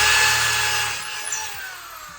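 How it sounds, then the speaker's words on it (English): A power drill whines loudly and steadily as it bores into wood, its pitch slowly dropping as the bit pushes through, with no talking. "so I'm going to go ahead and drill that."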